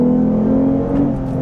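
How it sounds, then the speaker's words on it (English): A 2021 Lexus IS 350 F Sport AWD with a naturally aspirated 3.5 liter V6 gives a steady, loud induction drone from inside the cabin, a smooth continuous hum with no talk. "you still get some nice V6 sound, induction note especially"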